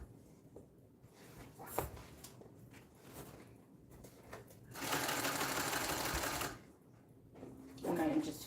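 A sewing machine runs top stitching in a few separate bursts, the longest a steady buzzing run of about a second and a half. It sounds close and moderately loud, with soft handling noise and a voice between the runs.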